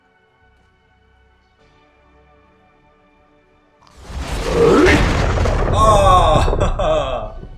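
A single heavy blast goes off in Path of Exile after a near-silent stretch, a loud booming burst that swells and rings on with crackling debris for several seconds, with a short exclamation from a player.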